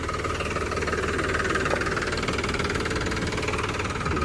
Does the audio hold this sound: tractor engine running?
yes